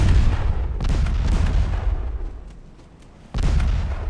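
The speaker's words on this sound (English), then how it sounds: "But the secondaries are pumping away." Secondary guns on a warship in a naval battle game fire in repeated heavy booms, loud and close, several reports over a few seconds with a sharp renewed blast near the end, no voices.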